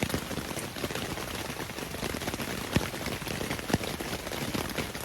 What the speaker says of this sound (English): I'm not sure how big these storms are, how long it's supposed to rain